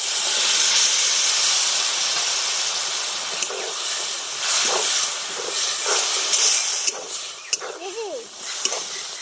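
Boiled vegetables go into a simmering fish curry with a steady, loud hiss of steam and sizzle, broken near the end by a few clatters and a short squeaking scrape.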